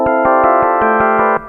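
Ambient Ø synth sequencer cycling through steps built into chords, a brisk steady train of bright stacked tones, around eight hits at close range with no voices, cutting off sharply at the end.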